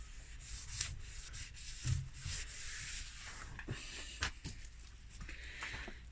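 Hand-sanding a turned maple bowl with 240 grit sandpaper, a soft steady rubbing and scratching with faint strokes, quiet and close, no voices.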